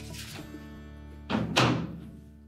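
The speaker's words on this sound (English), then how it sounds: "We can close the door up." The front-load door of a Whirlpool washer is pushed shut after a bellow clamp repair, giving two quick solid thunks close by over a quiet hum.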